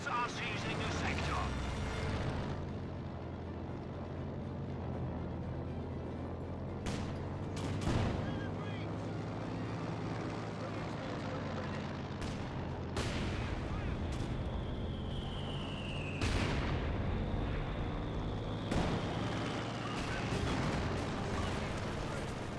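Mortar rounds and gunfire from a Company of Heroes 2 match boom repeatedly in sharp, irregular blasts over a constant low battlefield rumble, with a person talking throughout.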